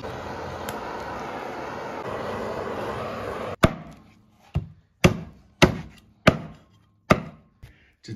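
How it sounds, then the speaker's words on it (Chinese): A cleaver chops through chicken on a wooden board, seven heavy separate thwacks at an uneven pace, loud and close after a few seconds of steady background noise. "这鸡已经剁完"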